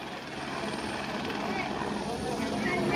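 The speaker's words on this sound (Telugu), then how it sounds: "హెలికాప్టర్ ల్యాండింగ్ అయితే అయిపోతుందండి" A helicopter drones steadily nearby as it lands at a beach festival, its rotor thrum continuous and loud, with voices faintly mixed in.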